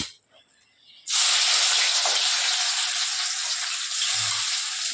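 Chopped onions drop into hot oil with mustard seeds, setting off a sudden loud, steady sizzle that starts abruptly and hisses on without a break, close up and with no talking.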